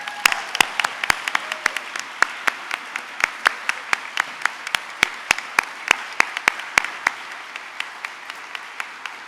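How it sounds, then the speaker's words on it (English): Audience applause fills a graduation ceremony hall for a college's arts and humanities class of 2024, a steady crowd of clapping with distinct sharp claps standing out, sustained and fairly loud throughout with no talking. "You deserve a big round of applause for your excellent work."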